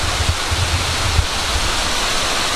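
Raven Cliff Falls, a waterfall pouring between rock cliffs on a Georgia hike, gives a steady, loud, broadband roar of rushing water with no pauses and no voices.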